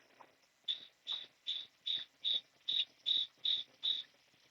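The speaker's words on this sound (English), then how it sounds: "we're just going to have the straight chirping sound" Crickets chirp in a steady, evenly spaced series of about nine bursts with no fade in or out, close and clear against a quiet background.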